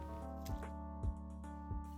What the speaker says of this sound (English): I transfer it to the water.